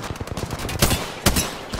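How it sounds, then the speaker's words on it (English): Rapid gunfire from two enemy squads in Apex Legends, with dense overlapping automatic bursts and a few heavier louder shots standing out against the chatter of fire, with no talk. "Oh, it's 2 teams shooting at us."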